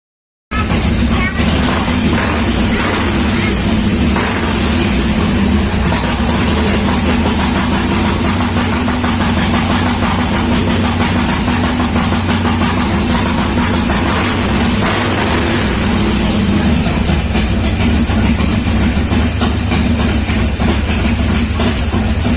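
A Harley-Davidson Roadster 1200 with S&S 585 cams runs with a Fuelpak 3 tune. A loud, close, steady engine roar fills the whole stretch without letting up.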